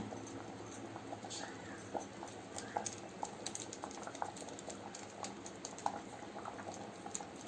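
Sambar with mango pieces bubbles quietly in a pot, a faint, low simmer with soft irregular pops and clicks close by.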